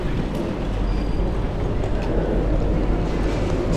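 A train at a station in Ourense, Galicia, producing a steady, dense rumble with broad noise throughout and a faint high tone briefly rising above it.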